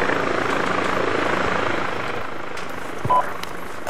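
Steady, loud helicopter rotor and engine drone during a compound firefight in the military video game Arma 2, continuous and close throughout with no voices.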